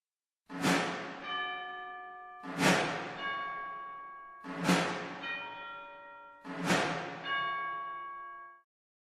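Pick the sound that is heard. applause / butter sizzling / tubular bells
tubular bells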